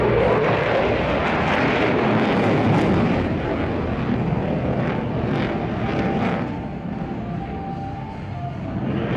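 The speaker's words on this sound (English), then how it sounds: "the F-15 enters a vertical spiral climb behind the two Apaches with a spectacular flare dump" At the Singapore Airshow, an F-15 fighter jet roars through a vertical spiral climb while dumping flares, a loud, broad, sustained jet roar that slowly fades and thins toward the end.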